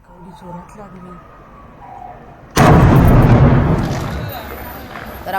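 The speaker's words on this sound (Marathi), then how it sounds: "आज पहाटे एमआयडीसी कंपनीमध्ये हा भीषण स्फोट झालेला आहे" A violent explosion at a factory in Badlapur MIDC, a sudden loud blast after a quieter stretch, followed by a long rumbling decay.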